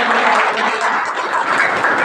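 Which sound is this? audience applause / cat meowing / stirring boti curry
audience applause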